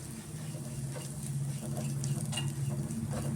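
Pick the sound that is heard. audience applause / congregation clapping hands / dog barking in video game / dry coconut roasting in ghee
dry coconut roasting in ghee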